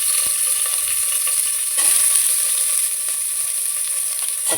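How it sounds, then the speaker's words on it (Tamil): Chopped onions sizzle in a pan with cinnamon and bay leaves for vegetable biryani, a loud, bright, continuous hiss close by, with soft scraping stirs now and then and no talking. "வெட்டி வச்சு வெங்காயத்தை போட்டுக்கணும்."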